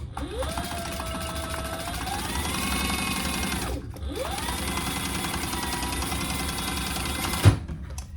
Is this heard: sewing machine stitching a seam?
yes